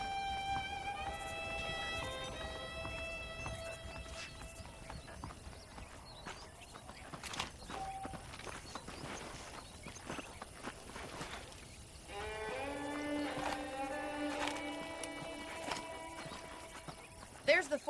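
Hooves clip-clop in an uneven rhythm amid Red Dead Redemption game music and ambience, with a voice speaking partway through and a brief horse whinny.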